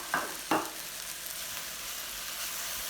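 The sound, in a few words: peppers and onions sizzling in a hot pan for fajitas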